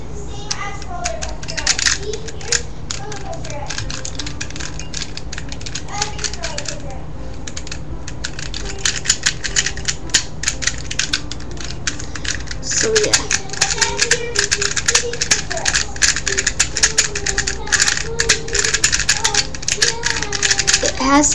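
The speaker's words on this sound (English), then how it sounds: "Has a bit of a clicking mechanism," A custom puzzle cube being turned rapidly, producing dense rattling clicks in quick bursts from its clicking mechanism, close up and fairly loud, with a person talking over the turning.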